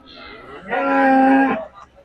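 A single loud, drawn-out bovine moo from a large bull at a cattle market, with a rich harmonic tone, lasting close to a second, heard close by with faint background noise.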